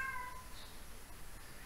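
A cat gives a short, faint meow at the start while out at a street market selling strawberries, with steady outdoor background noise continuing underneath.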